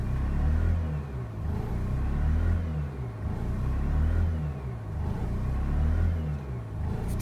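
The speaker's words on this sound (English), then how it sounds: "So right now I'm holding the gas down, and this is what it's doing." A Mazda RX-8 rotary engine with the gas held down gives a heavy, loud, wavering rumble that surges and sags in slow cycles, rough and uneven throughout.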